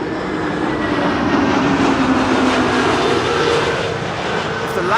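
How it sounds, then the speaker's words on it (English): A Transavia airliner arriving at Schiphol from Malaga gives a steady, loud, broad engine roar with a faint descending whine through it, holding constant throughout without voices. "This is Transavia flight 6118 arriving from Malaga."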